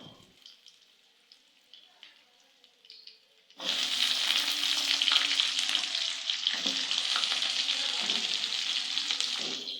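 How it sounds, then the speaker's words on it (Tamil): Ginger and onion hitting hot oil in a pan, a quiet start with a few faint clinks and then a sudden loud, close, steady sizzle with stirring that continues to the end. "சேர்த்து நல்லா வதங்கிட்டோங்க வெங்காயம் சேர்த்துக்கலாம்"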